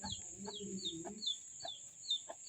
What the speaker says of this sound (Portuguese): A galinha que estava presa com os dois pintinhos